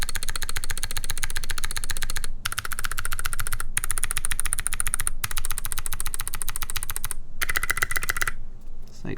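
Fast, steady typing on a mechanical keyboard with Box Navy switches, a loud, dense clatter of sharp clicky keystrokes in long bursts with brief pauses between them, close up and with no talking.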